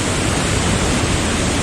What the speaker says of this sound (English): there are two waterfalls actually